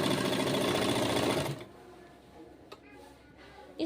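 A sewing machine runs fast along the folded edge of a suit side seam, a loud, close, continuous whir that stops abruptly partway, followed by quiet handling noises.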